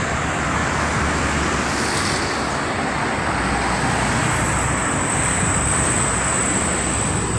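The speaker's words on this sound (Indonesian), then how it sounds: "suasana lalu lintas ramai lancar ya teman-teman." Steady roar of busy road traffic, vehicles passing continuously nearby with no pauses, a faint high whine running through it.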